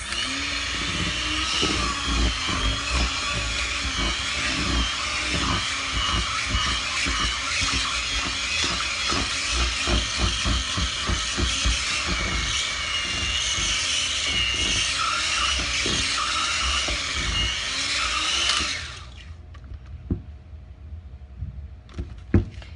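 Oatmeal, milk and honey bath bomb mixture, scented with fragrance, being mixed by a motorised mixer: a loud, steady whirring drone with rapid rhythmic churning that runs for about nineteen seconds, then cuts off, leaving faint clicks and handling noises.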